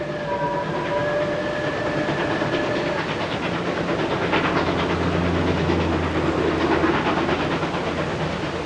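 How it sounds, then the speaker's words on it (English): A steam train runs along a South African coastline near George, its rhythmic chuffing and hiss loud and steady over rolling wheels, with a couple of long whistle tones at the start. "The train puffs its way heroically along spectacular coastal vistas before tunnelling through the mountains and into George."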